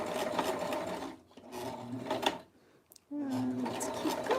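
A sewing machine runs back stitches on stretch lingerie fabric in short close bursts. The motor whirs in a few quick runs, drops to near silence between them, then starts up again with a rising hum.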